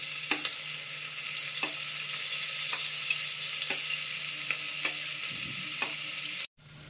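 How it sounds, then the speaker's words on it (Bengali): Sliced onions frying in hot oil for a spicy Bengali mutton curry, a steady even sizzle with soft periodic clicks of stirring, ending in a brief clatter and a sudden dropout near the end. "পেঁয়াজগুলো একটু ব্রাউন কালার করে ভেজে নিতে হবে।"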